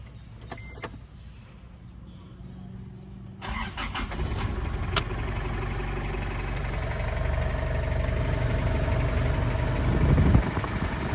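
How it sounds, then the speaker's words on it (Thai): A 2007 Chevrolet cab pickup with a 2.5-litre engine is started from inside the quiet cab: a few clicks, then the starter cranks, the engine catches and settles into a steady idle that grows slightly louder. "ตัวธรรมดาอาจจะติดเครื่องให้ชมนะครับ ติดเครื่อง"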